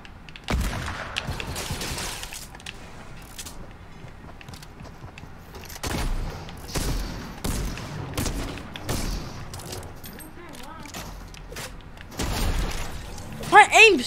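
Fortnite gunfire, including a hunting rifle and other weapons, with scattered shots and bursts over game noise, some sharp and near, others more distant, while a voice talks.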